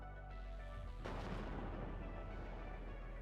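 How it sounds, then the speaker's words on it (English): Heavy artillery shelling striking a building in the real-time strategy game WARNO, arriving as a sudden loud crash with a dense rumbling wash of debris and blasts that continues steadily through the rest of the moment. "there's the artillery fire coming down on that building hard"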